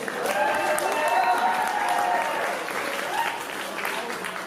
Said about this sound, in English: a round of applause for our American friends